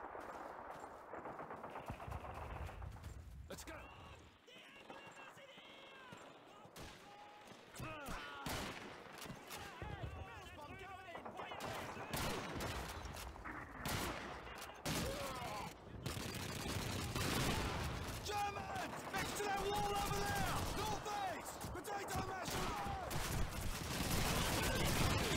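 Heavy gunfire from a World War II battle in Call of Duty 2 fills a dense, loud game mix: rapid machine-gun bursts and rifle shots fire almost continuously, with sparse shouted voices underneath.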